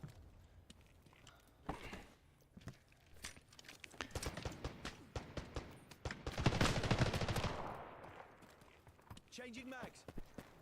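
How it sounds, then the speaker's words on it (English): Computer-controlled artillery shells a position in a video game, with a steady crackle of gunfire and thudding blasts that swell into a dense, loud barrage midway, while someone talks over it. "That's the AI shelling us."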